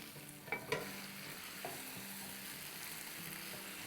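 Lollipop chicken wings are stirred through sauce in a pan with a few scraping knocks of the spoon near the start, then a low, steady sizzle carries on quietly with no talking.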